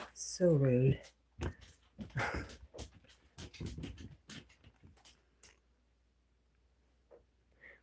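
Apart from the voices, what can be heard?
dog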